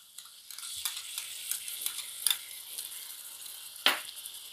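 Yogurt stirred into frying peas and tomatoes in a pan, giving a steady soft sizzle with scraping spoon strokes and a few sharper clinks against the metal, close and alone.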